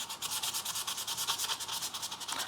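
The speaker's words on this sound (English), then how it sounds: "Rotate it and sand across the scratches that you just made." Hand sanding across scratches on a metal surface to build texture, a quiet, rapid back-and-forth rasp repeating in a steady rhythm with no talking.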